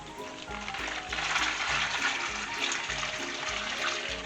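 Brine splashes and gurgles steadily as it is poured into a bag holding pastrami meat, a continuous liquid rush with faint rhythmic pulsing and no talking.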